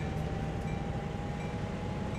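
A freight train hauling through Canada in Train Sim World 2 rumbles steadily at full throttle, a continuous heavy low drone with a faint whine on top. No other sound stands out.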